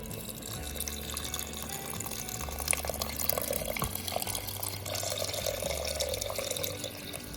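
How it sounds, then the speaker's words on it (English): Water pours steadily into a pressure cooker pot of chicken soup, filling it up to the max line; a continuous close splashing and trickling that carries on without pause and with no voices. "The last thing I'm gonna do is add water until I get my pot up to the max fill line."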